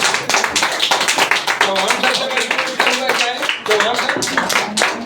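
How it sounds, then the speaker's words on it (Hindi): An audience at a DXN product training event claps in quick, sharp bursts that run throughout, with a voice speaking loudly over the applause. "तालियां होनी चाहिए, जोरदार ताली होनी चाहिए"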